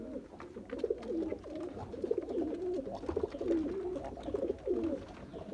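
Golden red-eyed Dubwala pigeons coo in repeated soft, throaty rolling phrases, close and moderately quiet over a low background hum.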